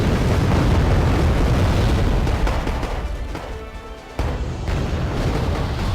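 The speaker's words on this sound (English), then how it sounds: "You see my ATGMs destroying any vehicle in sight." Explosions from ATGM missile strikes on vehicles in the WarGame: Red Dragon strategy game, a loud rumbling blast that fades and then bursts again.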